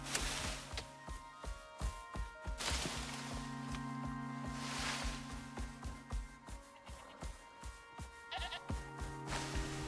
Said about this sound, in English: I hear you, Mr. Goat